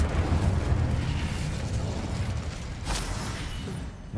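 Fire and explosive spell effects in the Hogwarts Legacy video game during a battle with a guardian, heard as a continuous loud rumbling roar of bursts and blasts with no clear gaps.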